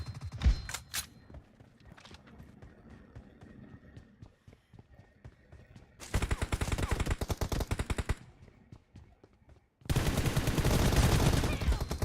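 Automatic weapons fire in the mobile battle royale BGMI comes in long sustained bursts of rapid shots, loud and dense, broken by quieter stretches of footsteps and scattered shots.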